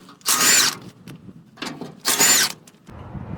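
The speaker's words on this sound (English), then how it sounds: "We're gonna remove the 2 18mm bolts, nuts for the cross member here in the center." A power tool whirs in two loud bursts to remove cross member bolts under a Ford 5.4 truck during transmission work, with quieter mechanical clatter between and after the bursts.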